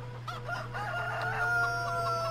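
Chickens in the Farming Simulator 2013 video game, a close cluster of hen clucks and a crowing rooster call over a steady low hum, no talk.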